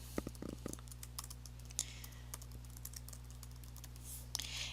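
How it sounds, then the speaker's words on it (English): Fingers tap steadily on a computer keyboard at a desk, entering a name into a genealogy database search, with quick, irregular clicks over a constant low hum. "So I'm going to type in his name."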